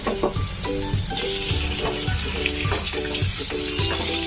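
Long-cut potato strips frying in hot mustard oil hiss and sizzle in a steady, bubbling wash, heard close up while music with a repeating beat plays underneath.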